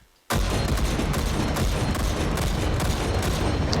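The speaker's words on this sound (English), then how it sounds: "Let's reset the target to show you the beautiful accuracy of Deagle's chambered in 44" Desert Eagle pistol chambered in .44 Magnum fired in Hot Dogs, Horseshoes & Hand Grenades: after a brief near-silence, a sudden, loud and dense barrage of gunfire starts and keeps going without a break.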